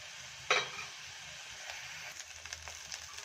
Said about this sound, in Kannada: ಲೋ ಫ್ಲೇಮಲ್ಲೇ ಹುರ್ಕೊಳ್ಳಿ